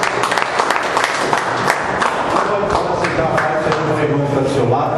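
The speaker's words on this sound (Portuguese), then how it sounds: "Que as palmas louvem a Deus." A church congregation claps at the end of a worship service, steady massed applause filling the room for several seconds, with voices speaking over it.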